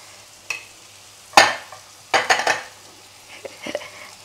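Two eggs fry and get stirred in a wok while fried rice vermicelli is cooked, giving a soft sizzle under several sharp scraping, clattering strokes of a utensil against the pan, close by with no talk.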